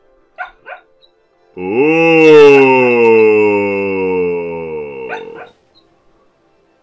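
Hudson the dog lets out a long, drawn-out sleepy whine-howl while dreaming, lasting several seconds after two short yips, close and alone in an otherwise quiet room.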